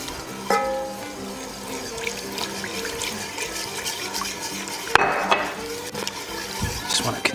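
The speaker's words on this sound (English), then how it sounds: "Just want to continually whisk it." Sauce for buffalo chicken mac and cheese gets whisked in a pan, making a continuous close scraping, swishing and metallic clinking, with occasional louder knocks against the pan and brief talk underneath.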